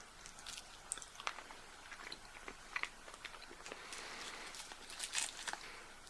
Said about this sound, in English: because that was a lot of chewing